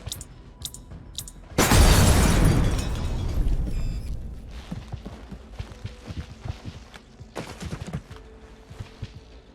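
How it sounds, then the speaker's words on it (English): Grenade explosion in the turn-based tactics game XCOM: Chimera Squad: a sudden loud blast with a shattering crack, decaying into rumble and scattered debris clatter, preceded by short clicks. "Throwing grenade."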